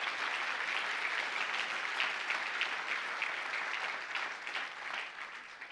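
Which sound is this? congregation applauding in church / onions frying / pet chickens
congregation applauding in church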